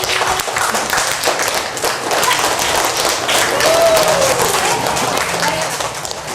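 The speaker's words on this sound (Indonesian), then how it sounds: "Tepuk tangan untuk Mas Ardin." A classroom full of people breaks into loud, sustained applause, many hands clapping at once for several seconds.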